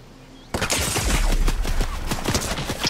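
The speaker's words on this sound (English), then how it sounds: "I'm fucking shooting right at him and it's not doing any damage." Gunfire in the video game Fortnite erupts suddenly as a loud, dense fusillade of rapid shots with thudding low impacts, sustained and close, no voices over it.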